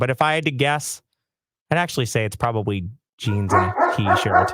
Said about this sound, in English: that's my dog barking at our neighbor kids who are at the door